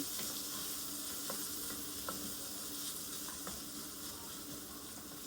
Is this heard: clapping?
no